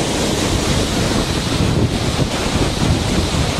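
A mountain stream on the Gomukh trek above Gangotri rushes steadily downhill as a loud, unbroken broadband roar, close by, with wind buffeting the microphone.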